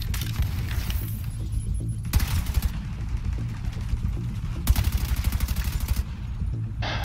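An automated turret in The Division 2 fires in rapid bursts, loud machine-gun-like rattles that stop and start across the stretch, with short quieter gaps and mechanical whirring between volleys.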